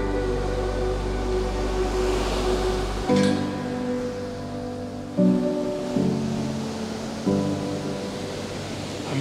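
Ocean waves break on a New Zealand shore, a broad rushing wash with several surges and swells, heard alone without voices.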